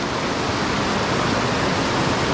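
Steady rushing water of the Tapuakan River in Pugo, La Union, a dense unbroken wash close by, with no talking.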